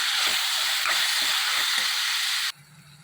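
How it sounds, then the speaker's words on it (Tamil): Chicken frying in a pan with tomato and ginger garlic paste for Pallipalayam chicken, a steady loud sizzle and hiss, with soft irregular stirring knocks under it before the sizzle suddenly drops away. "சிக்கன் போட்டு கிளறிடலாம்"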